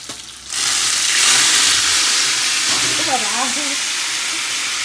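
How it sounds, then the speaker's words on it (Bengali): Dal hits hot oil tempered with dried chilies, bay leaf and panch phoron, bursting into a loud, steady sizzle that continues under a brief voice. "ডালটা বাগার দেওয়া হয়ে গেছে"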